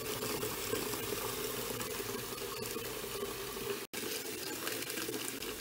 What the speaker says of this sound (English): So just pop that into a bucket, fill that with hot water, and give that a good swish around so that tablet dissolves.